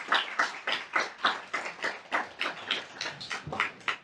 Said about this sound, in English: Give him a heartfelt round of applause